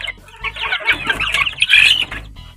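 Month-old chicks in a small flock of eight cluck and chirp noisily while being fed, a dense, close, continuous chatter of overlapping calls with occasional louder bursts.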